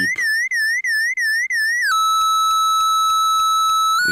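A homemade vactrol Wien-bridge oscillator with distortion puts out a steady electronic tone. It first wobbles and is chopped into quick rhythmic gated pulses, then jumps to a higher, steadier pitch with faint regular ticks. The tone plays alone with no talking.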